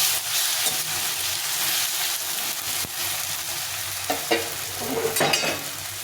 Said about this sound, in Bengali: এখন এই লবণের সঙ্গে টমেটোটা সুন্দরভাবে ভাজা ভাজা হবে